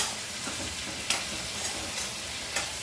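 Brinjals fry in salted oil with a steady, even sizzle, and a few soft stirs or scrapes break through now and then. No one speaks.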